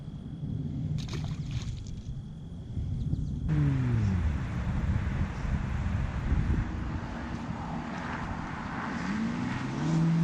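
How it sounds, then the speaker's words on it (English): Loud vehicles rumble past behind an angler fly fishing for bluegill by a culvert, a heavy low drone rising and holding with some wind noise over it. "Hooked up with number 2 with obnoxiously loud vehicles behind me"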